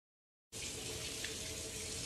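Water pours steadily onto a baby in a bath, rinsing off shampoo; after a half-second of silence a continuous close splashing stream begins and runs on without pause.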